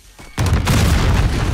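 Grenade explosion in Call of Duty: Modern Warfare (2019) on Arklov Peak, a single loud, close boom that hits suddenly and keeps rumbling with a heavy low tail.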